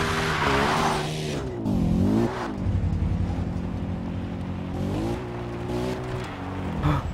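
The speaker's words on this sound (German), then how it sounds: "Ich wollte eigentlich nur hier mit meinem Auto beilang fahren." Car engine revving with tires skidding and squealing in the video game Far Cry 3, loud and continuous with rising and falling engine pitch, no talking.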